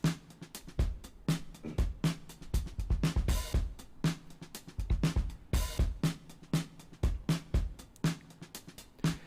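A chopped-up BandLab drum loop plays on its own, a tight, punchy pattern of kicks, snares and bright hi-hat hits repeating in a steady groove with no voices.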